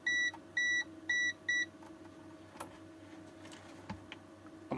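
Multimeter continuity tester on an electric bike's 72V 20Ah Samsung-cell triangle battery giving four short, bright beeps in a steady rhythm, followed by quiet clicks and probe taps with no further beeping.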